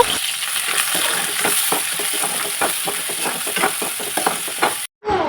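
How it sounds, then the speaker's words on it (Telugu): Onion and green chillies frying in hot oil with mustard seeds in a pan. Close, continuous sizzling is broken by rhythmic scraping stirs, then cuts off abruptly near the end. "నెక్స్ట్ ఆనియన్ పచ్చిమిర్చి కూడా వేసుకుంటున్నాను ఆనియన్ అనేది బాగా వేయి చేసుకోవాలన్నమాట"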